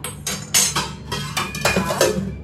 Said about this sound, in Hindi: अब इसको देंगे अच्छा सा मिक्स